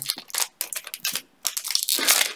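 Crinkly plastic wrapper of a trading card pack tearing and crumpling in close, loud bursts with brief pauses between.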